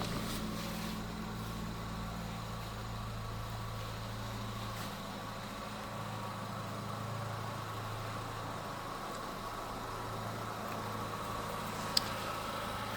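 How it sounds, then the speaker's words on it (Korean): A Chevrolet Cruze 1.4 turbo hatchback idles steadily, a faint, even low hum with a soft mechanical drone continuing for the whole stretch, with a single small click near the end. "엔진도 지금 현 시동 걸려 있는 상태입니다."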